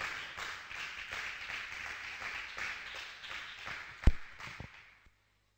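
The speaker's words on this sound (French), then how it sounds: "Applaudissez Jésus-Christ" A church congregation claps during a sermon, a steady rhythmic patter of hands lasting several seconds with one sharp louder clap near the end before it stops abruptly.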